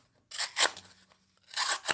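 A Kizer Meteora knife blade slicing smoothly through material, two separate rasping, scissor-like cutting strokes, close and fairly loud, with quiet between them.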